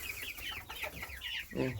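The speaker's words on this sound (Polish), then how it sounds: "Tutaj kurka jest." Hens cluck in a quick, busy series of short calls, fairly close, in a henhouse over a quiet outdoor background.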